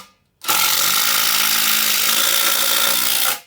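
A Dewalt DCF888 impact driver runs in one continuous burst of about three seconds, driving a long 140 mm screw: a loud, close, dense whine with rapid hammering, starting and stopping abruptly after a quiet moment.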